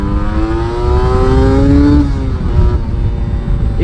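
A Yamaha TDR 125 two-stroke motorcycle engine revs loudly and close by, its pitch climbing steadily for about two seconds before dropping off and then holding a rough, buzzing idle.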